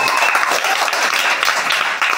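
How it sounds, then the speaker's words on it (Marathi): A room full of people claps steadily and loudly for a young quiz contestant who has just answered a hundred general-knowledge questions, the dense applause running unbroken throughout. "परत एकदा टाळ्या होऊन जाऊ द्या"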